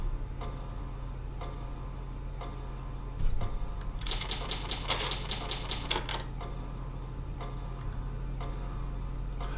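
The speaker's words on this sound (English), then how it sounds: "I will show you the typewriter system, just obviously so you can see what it looks like" Typewriter save system in the video game Resident Evil HD Remaster: a quick burst of crisp mechanical key clacks lasting about two seconds, set over a steady low hum, with a few soft ticks before and after.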